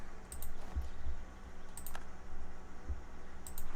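A cheap mouse clicks during a game of Europa Universalis IV, giving a few sparse, sharp, dry clicks spaced irregularly over a low steady background hum, with no talking.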